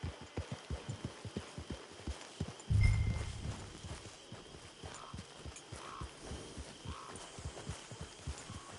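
Horse hooves clip-clop at a steady walking rhythm in the video game Red Dead Redemption Online, clear and close, with a brief louder thump partway through and no speech.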